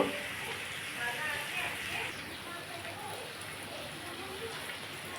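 Potato, pointed gourd and prawn curry sizzling and frying in oil, a steady hiss with a soft crackle throughout, close and moderately loud with no talk.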